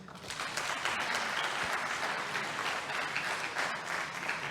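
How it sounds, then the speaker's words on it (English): Steady applause from an audience at a youth peace summit, dense clapping sustained throughout with no break or voices standing out. "Please applaud him."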